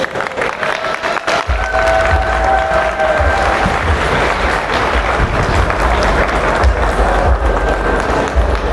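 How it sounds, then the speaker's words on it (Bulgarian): Audience at the Aniventure Comic Con 2025 talk breaks into loud, sustained applause with some cheering, a thick, close wash of clapping from a large crowd that swells after a brief quieter start and holds steady. "Много бурни аплодисменти."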